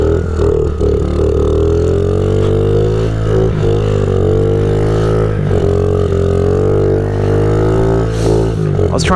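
Honda CRF50 pit bike engine revving continuously in the snow, loud and close, with rising and falling pitch as the throttle is worked throughout.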